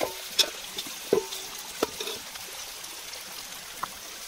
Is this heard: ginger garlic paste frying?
yes